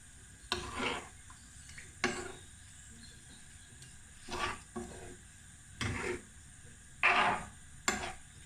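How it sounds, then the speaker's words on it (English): Yoghurt is stirred into a chicken jalfrezi curry mixture in a pot with a spoon, making about seven short, soft scraping strokes separated by quiet pauses. "So we're just stirring this yoghurt in"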